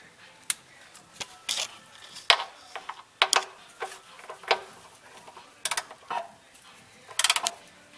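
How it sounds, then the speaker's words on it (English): A ratchet snugs the oil drain plug on a 2005 Ford Mustang GT, giving sparse, sharp clicks in short irregular bursts, faint and close by in a quiet space. "Get it finger tight, and then all you need to do is just snug it just a smidge bit more with the ratchet."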